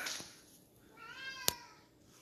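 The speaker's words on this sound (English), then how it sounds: "My cat." A house cat lets out a drawn-out, rising-then-falling meow, close and clear, with a brief sharp click midway and faint room noise around it.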